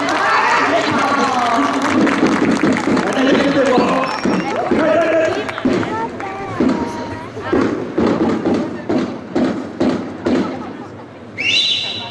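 An audience at a commedia performance during the Venice carnival breaks into applause, a continuous wash of clapping that rises under voices and music, with one sharp whistle near the end.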